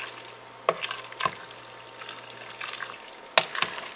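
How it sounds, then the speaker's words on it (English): A spoon stirs cabbage soup in a pot, with a quiet bubbling simmer underneath and three distinct clacks of the utensil against the pot's side, spread out and close by. "So we're just going to give this a stir"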